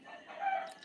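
A single chicken gives a short, close cluck, fairly soft and alone.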